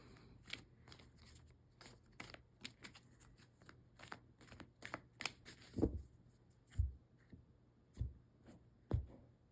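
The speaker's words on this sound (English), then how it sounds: "let's see if I can shuffle the cards today." Tarot cards being shuffled by hand, a run of crisp riffling flutters followed by several sharper taps and knocks of the deck, close and fairly quiet.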